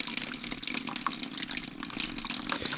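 Pressurised hot water from a newly installed plumbing system gushes steadily into a bucket, a constant close-up rushing splash that holds for nearly three seconds.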